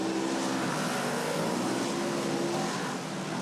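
A race car engine drones steadily at a distance as it drives over obstacles on a track course, a dense continuous roar with no voices.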